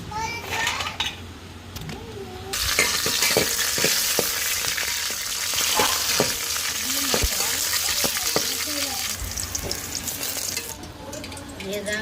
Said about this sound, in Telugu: అదే ఆయిల్ అయితే టమాటా కూడా ఫ్రై చేసేసుకున్నాం